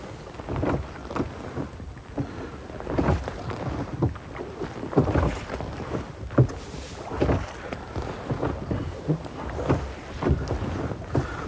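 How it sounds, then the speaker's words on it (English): Winter wind gusts across an open boat on the Broads during a pike fishing trip, buffeting the microphone with loud, irregular rumbling thumps and rushing noise throughout. "I'm feeling the wind around my neck now."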